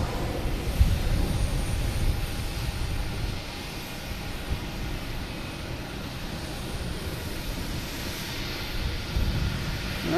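An Aer Lingus jet airliner departing Boston Logan, a loud sustained engine roar that swells, dips slightly mid-way and builds again, heard outdoors from some distance with no speech.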